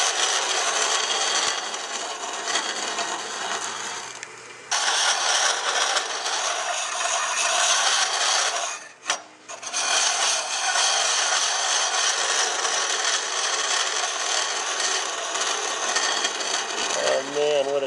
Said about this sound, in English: For a hollowing internally to get chips like that.